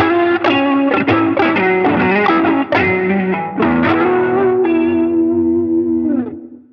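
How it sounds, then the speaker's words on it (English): An electric guitar runs through a TC Electronic Vibraclone Leslie-style rotary pedal on its Chorale voice with the drive fully up, giving a gritty, swirling phrase of chords and notes that ends on a sustained, fading note. "So here's what the drive sounds like all the way up on the Chorale voice."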